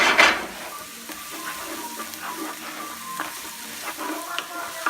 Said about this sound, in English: that way you can saute it very briefly like this